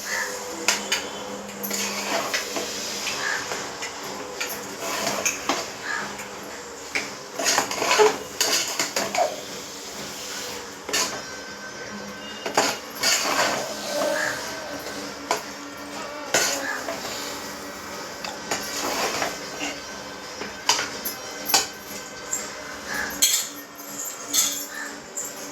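A metal spoon stirs mushroom biryani ingredients and rice in a pot, with close, irregular scraping, clinks and knocks against the metal sides that come in uneven bursts.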